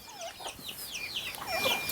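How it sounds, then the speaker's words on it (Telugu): Several native desi village chickens cluck and squawk continuously at close range, with overlapping calls forming a busy barnyard chorus. "నాటుకోలు అయితే ఇలా ఫుల్ ఉంటాయి నాటుకోలేండి అండి"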